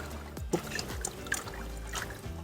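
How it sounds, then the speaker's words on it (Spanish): Water trickling and splashing from a garden irrigation system, a quiet, close, irregular dribble with small drips and gurgles, alone without speech. "Está saliendo el agua."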